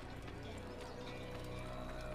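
Horse hooves clip-clop quickly and continuously in Assassin's Creed as a white horse is ridden, a busy drumming rhythm with talk over it.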